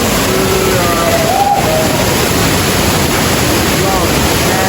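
Suwat waterfall in Gianyar, Bali, pours as a loud, constant broadband roar close by, unbroken throughout with no talk heard.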